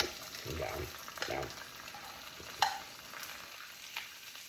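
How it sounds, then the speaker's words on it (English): Sausages fry in a pan with a soft continuous sizzle, broken by a few clinks and scrapes of turning, close but fairly quiet, and a low voice is briefly heard. "We'll flip all the sausages."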